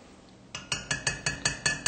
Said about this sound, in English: I'm going to mix this up.